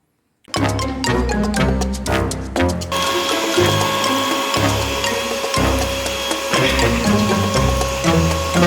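An electric beater whirs through chocolate cake batter with sugar being mixed in, a loud close mechanical rattling and grinding that starts abruptly after a brief silence and runs continuously, with no talking.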